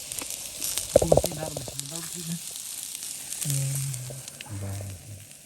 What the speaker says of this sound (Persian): صدا رو میشنوین دیگه. این روغن در میگه